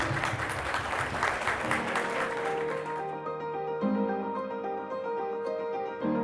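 An audience at an awards gala gives a dense round of applause that tapers off after about three seconds as music begins to play.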